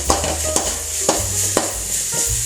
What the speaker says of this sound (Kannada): ಮೀಡಿಯಮ್ ಫ್ಲೇಮ್ಡು ಫ್ರೈ ಮಾಡ್ತೀನಿ ನಾನು